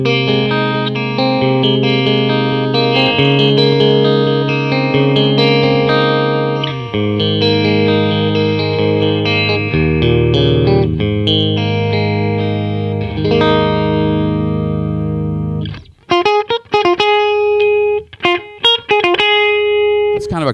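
A Granville Bugs custom electric guitar with its middle pickup added rings out sustained chords with a bright, slightly effected tone, then shifts to choppier, staccato strums near the end.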